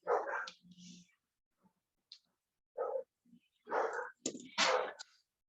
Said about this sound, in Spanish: Los perritos.